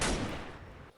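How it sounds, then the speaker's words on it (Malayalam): A single burst of gunfire from the video game Free Fire, loud at the start and decaying quickly over about a second, with no voices. "അവനവിടെ ചുമ്മാ പൊട്ടിച്ചുകൊണ്ടിരിക്കും."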